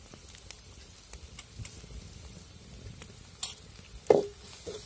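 Turmeric being stirred into hot chilli oil in a pan, a faint steady sizzle with scattered soft scrapes and one or two sharper clinks near the end.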